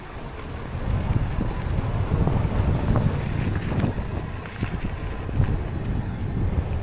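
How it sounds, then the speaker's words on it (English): Gusty wind buffets the microphone during a mountain bike ride in low, rumbling bursts that rise and fall unevenly, loud and close throughout. "It's also very windy today,"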